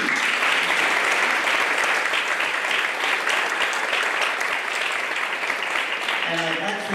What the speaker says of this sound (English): So I applaud you.